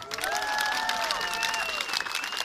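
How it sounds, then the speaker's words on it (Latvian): Audience applause at a Latvian stage show or prize event, a dense steady patter of clapping from a crowd with whistles or tonal squeals riding over it, moderately loud throughout. "Aplausi!"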